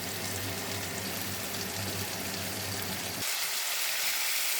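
Chopped tomato and green chilli hit hot oil in a pan for a Bengali rui fish curry, giving a loud, steady sizzling hiss that continues throughout and brightens slightly near the end.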